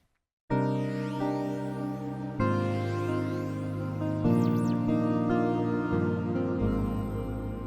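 Complex FM synth patch on a Korg Opsix SE: a sustained, dense tone that enters abruptly and shifts through several chord changes, with sweeping metallic overtones, steady and loud, heard alone.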